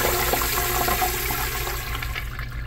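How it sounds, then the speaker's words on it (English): A 3rd gen Kohler Dexter urinal flushes with a loud, steady rush of water that fades slightly toward the end, close and uninterrupted, with no talking. "the flush itself is nothing really to write home about"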